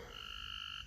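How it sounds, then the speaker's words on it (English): Frogs croak at night in a quiet yard, a faint, rapid pulsing trill held steady for most of a second over a soft low background hum, with no talking. "hear my frogs, they're singing"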